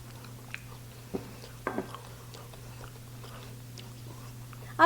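A spoonful of chicken salad casserole is bitten and chewed close to the microphone, with a few soft crunchy bites and mouth sounds over a steady low hum, ending in a brief louder clatter.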